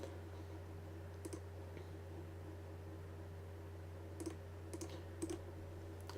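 Computer mouse buttons clicking at a desk while working in a game event editor, a few faint, quick clicks in small clusters over a steady hum of fan noise, with no speech.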